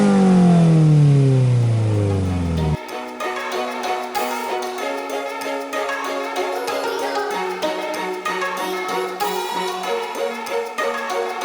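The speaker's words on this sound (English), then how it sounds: "That cold start still sounds good." A Subaru WRX starts cold: the engine revs up high and loud at first, then its pitch sweeps down before it drops to a steady, busy fast idle that runs on, close and alone.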